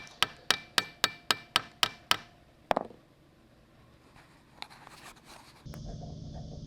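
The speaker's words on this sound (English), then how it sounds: "every stringer is being removed in turn so the plank fastenings behind can be punched and riveted again" Sharp metal hammer blows punching and riveting plank fastenings on a boat hull, about eight evenly spaced loud strikes in quick rhythm, then a single heavier knock, a pause, and a steady hiss at the end.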